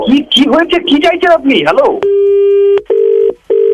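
Someone speaks briefly before a landline-style phone line takes over: a loud continuous call tone, then a clipped repeating ring-back tone with short gaps.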